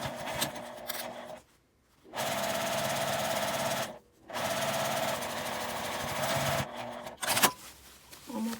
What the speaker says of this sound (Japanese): 縫い代を外側にして合わせて、上端を1センチの縫い代で縫います。